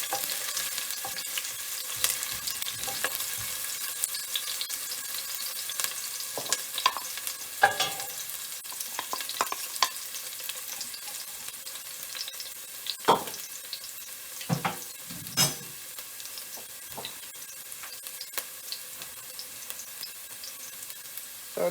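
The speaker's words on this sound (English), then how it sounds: "So now I'm stirring my onion." Onion and garlic fry in a pot for a Jamaican brown stew turkey neck, a steady sizzle broken by irregular scrapes and clinks of a spoon stirring, close and moderately loud with no talking.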